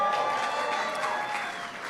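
A reception crowd at a White House Cinco de Mayo event applauds for a welcomed guest, a short, dense burst of clapping from many hands that stays steady and fairly loud throughout.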